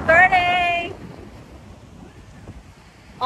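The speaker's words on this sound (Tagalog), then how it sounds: "grabe guys ang hangin dito" Strong wind buffets the microphone at Lambog Beach, a steady broadband rush that continues after a voice at the start of the clip falls away.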